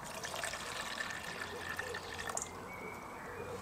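Water pours steadily into a small camping pot, filling it to about 160 ml, a continuous trickling stream at close range with faint background noise throughout.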